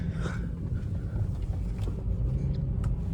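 A car's engine rumble and road noise roll on steadily during a U-turn in rush hour traffic, loud and low, with faint wind buffeting at the microphone.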